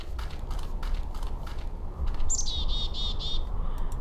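A bird in the video game Syberia 2 gives a short run of clear, high chirps, repeated several times near the end over a steady ambient background.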